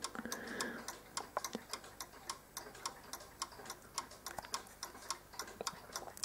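A German dual chime mantle clock ticks steadily, a sharp, even beat of clicks repeating about three times per second, close and clear with no voices.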